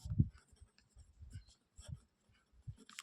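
Pen or pencil scratching on paper while a class 12 math problem on taking logarithms is worked by hand, in short intermittent strokes, close and quiet, with no talk over it.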